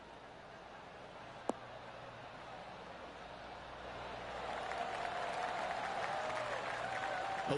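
In a PGA Tour golf video game, a gallery applauds after an approach shot on the 11th hole, a soft crowd noise that swells halfway through and holds steady.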